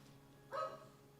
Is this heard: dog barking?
yes